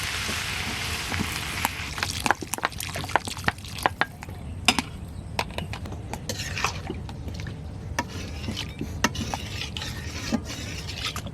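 Water poured into a pan of taro leaf curry cooking over a village fire, a continuous hiss with bubbling and sharp clicks and knocks of stirring, close and fairly loud with no talk.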